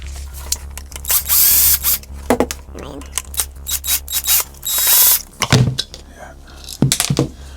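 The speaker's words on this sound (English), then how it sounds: "I'd go in this way by removing 2 long Phillips screws" A screwdriver or small power driver backs out two long Phillips screws from a blender housing, giving ratcheting, whirring bursts mixed with clicks and handling clatter over a constant low hum, with a voice talking between bursts.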